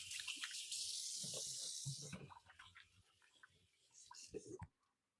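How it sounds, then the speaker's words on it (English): Hands rinsed under a running kitchen tap while cooking: a close hiss of flowing water for about two seconds, then quieter splashes and rustling, and a soft voice speaks briefly before the water stops. "Let me give my hands a quick rinse here."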